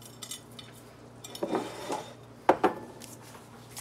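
Dollar Tree cheese grated by hand against a metal grater, a few soft scraping strokes with light clinks of utensils in a quiet kitchen, faint and close.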